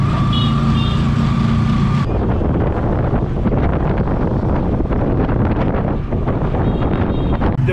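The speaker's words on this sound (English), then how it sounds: "And now the always fun tricycle ride to the Daraga Church." A motorized tricycle ride through the city of Legazpi in the Philippines gives a steady, loud roar of engine and rushing wind, continuous from start to finish with no talking.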